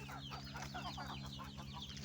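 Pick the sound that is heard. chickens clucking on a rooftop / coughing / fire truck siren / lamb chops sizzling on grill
chickens clucking on a rooftop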